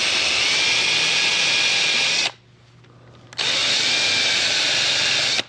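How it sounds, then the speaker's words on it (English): A power drill boring into wood whines steadily and loudly, cuts out for about a second, then starts up again at full speed. "keep the drill bit in reverse"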